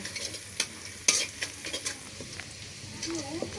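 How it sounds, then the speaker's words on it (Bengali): Onions frying in a pan for a picnic meal give a steady sizzling hiss, broken by sharp scraping and clinking as the pan is stirred, close and fairly quiet with no one talking. "তো পেঁয়াজটা ভালো করে ভেজে নিচ্ছি।"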